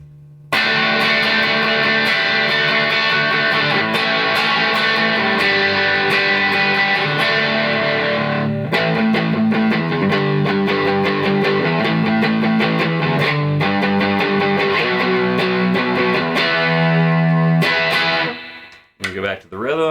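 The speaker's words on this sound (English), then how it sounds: "if we put a little distortion on it, I'm using the BBE 427, which is a Rat clone." A Squier Classic Vibe Jaguar electric guitar played through a BBE 427 Rat-clone distortion pedal gives a loud, sustained, gritty tone with chords ringing continuously for nearly twenty seconds before cutting off.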